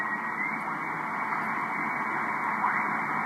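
Amateur radio receiver noise on the 15 meter band: a steady, even hiss that holds at the same level throughout, with no signals or voices breaking through.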